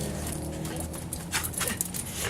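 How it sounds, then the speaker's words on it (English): A dog whimpers and yips softly indoors, faint short whines and sniffing noises close by amid background room sound. "It's our first dog."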